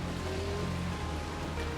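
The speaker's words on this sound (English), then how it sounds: "The rain comes down even harder now" Heavy rain pouring down during a rally stage, a dense steady hiss with a low rumble underneath, as if heard from inside a vehicle.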